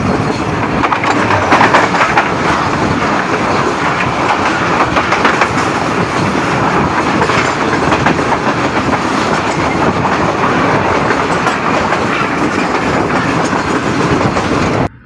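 A passenger train on the Multan to Rohri line in Pakistan rolls steadily along the rails with a constant loud rumble and rhythmic clatter of wheels, heard from inside, no voices.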